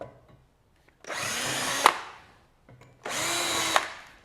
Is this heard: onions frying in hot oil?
no